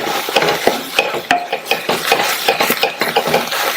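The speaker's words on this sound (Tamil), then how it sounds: "நல்லா மிக்ஸ் பண்ணியாச்சு." Spinach (keerai) and rice being stirred and mixed in a pan, a busy run of close scraping and clinking utensil strokes against the metal, loud and steady with no talk.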